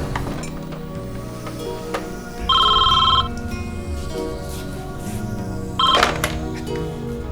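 An old landline telephone bell rings in two bursts, one longer and one short, fairly close in a domestic room with faint background noise and no talking.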